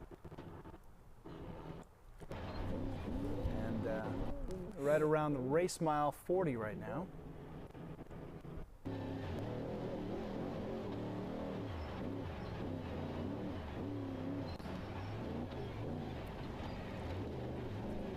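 Off-road race truck in the Baja 400 desert race, engine droning steadily from inside the cab, with speech over it early and then a continuous loud mechanical roar.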